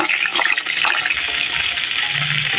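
Meat sizzles in hot oil in a pan, a steady close crackling fry with some bubbling, while it is browned before being cooked into adobo.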